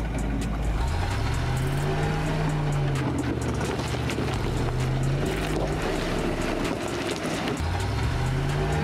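A Land Rover Defender with a rear locker climbs over a diagonal off-road obstacle, its engine droning low and steady with slow rising and falling revs, heard close amid continuous wind buffeting.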